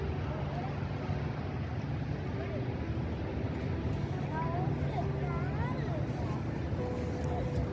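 Motor launch boat cruising on the water at Quebec, its engine drone steady and close throughout, with people talking over it.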